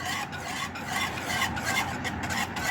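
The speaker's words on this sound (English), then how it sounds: "this the part where you have to keep stirring" Steady rasping scrape of a spoon stirring banana pudding custard of eggs and milk in a pot on the stove, continuous and close with soft rhythmic strokes, no talking.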